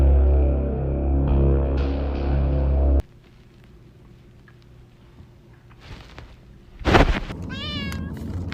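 A cat gives a brief meow near the end, preceded by a loud low rumbling sound that cuts off abruptly and a stretch of quieter scattered noises.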